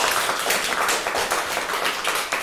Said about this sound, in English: if we could give our muse Eric a round of applause